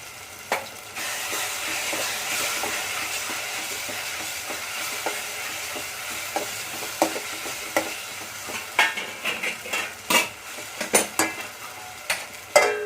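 A spoon stirs and scrapes through a thick roasted eggplant mash with cumin, coriander and garam masala in a pan over low heat with a low sizzle, the clinks and scrapes growing sharper and more frequent toward the end.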